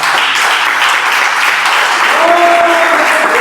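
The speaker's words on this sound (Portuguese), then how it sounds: "a salva de palmas para o Rei da Glória" A church congregation breaks into sustained applause at a family worship service, dense steady clapping filling the room, with a brief held tone from an instrument or voice surfacing faintly toward the end.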